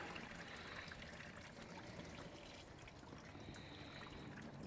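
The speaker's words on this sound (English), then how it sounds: "And I already see a bunch of rusty water coming out." Rusty water trickling steadily out of a Jeep T90 gearbox on a flatfender Jeep, a faint continuous dribble with no voices.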